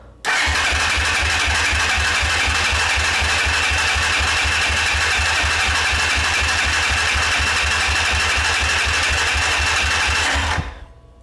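A motorcycle engine, being tested for a working CDI, cranks and catches, then runs at a steady fast idle for about ten seconds with a rapid mechanical chatter before it cuts off abruptly. It is close and loud.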